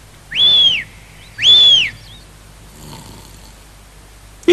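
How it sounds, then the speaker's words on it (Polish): Cartoon character snoring while asleep, two long whistling snore breaths in a row followed by a quieter stretch, close and clear with no talk. "Słyszę jego chrapanie."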